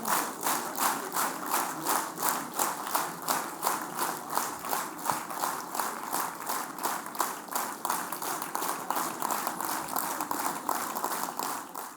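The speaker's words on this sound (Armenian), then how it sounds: "Մի դադարեցրեք ծափը, շարունակեք։" An audience at a Christmas celebration claps in a steady rhythmic beat, many hands together, loud and sustained without a break.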